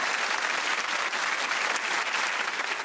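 A studio audience at a comedy panel game show claps in a dense, even burst that stays loud and unbroken throughout, with no voices on top.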